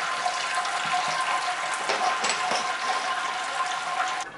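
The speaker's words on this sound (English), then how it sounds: "I'll take my water from the mesh and slowly pour it over and drain through, extract more sugars." Sparge water is poured slowly over mashed grain and drains through the mesh of a Robobrew V3 brewing system, giving a steady close splashing and trickling that runs on and then drops off at the end.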